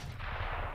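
A rifle shot in CS:GO during a tournament match, a single close crack with a dense low rumble and reverberant tail, heard alone.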